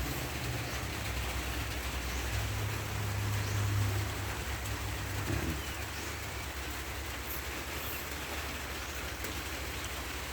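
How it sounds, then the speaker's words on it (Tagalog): Steady rain falls on a wet morning, a dense continuous hiss with a low rumble that eases slightly partway through, no voices. "Yan, maulan na umaga."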